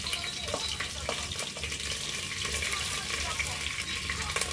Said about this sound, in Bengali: এখন এখন এই পেঁয়াজটা আমরা একটু ভেজে নিব